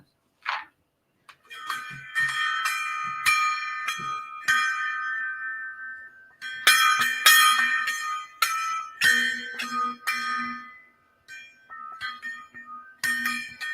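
A small gong or bell-like chime struck repeatedly with ringing, shimmering tones that sustain and overlap, some strikes sharp and close, sounding almost like wind chimes, with no talking.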